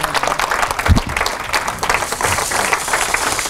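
A church congregation applauding, steady dense clapping from a crowd that fills the room, with a few louder individual claps and faint voices mixed in.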